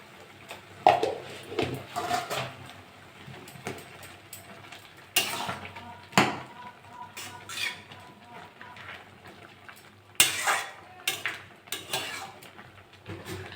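Metal pot lid set down over a pot of banana flower cooking with turmeric, heard as a few sharp clanks and clatters of cookware in a kitchen, with quieter scraping and handling between, close by and without talk.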